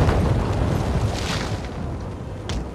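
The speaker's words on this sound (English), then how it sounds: "Currently suffering losses from an unknown artillery location." Artillery explosions in a Napoleonic war video game make a heavy, rumbling boom that slowly fades, followed by a sharper blast near the end. The sound is loud and deep, and no one speaks.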